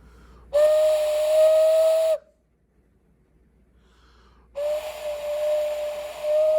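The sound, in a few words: clay whistle being played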